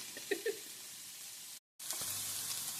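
Onions frying in a pan for shakshuka give a steady soft sizzle, faint and close, with a few brief stirring clinks early on and a momentary cutout partway through.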